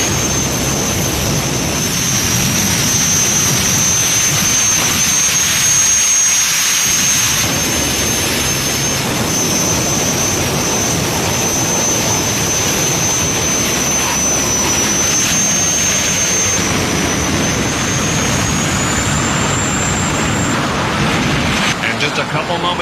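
A jet-powered funny car at the Pro Jet Spring Funny Car Championship drag race roars loudly and steadily throughout, with a sustained high whine riding over broad engine rumble, crowd and speech mixed in underneath.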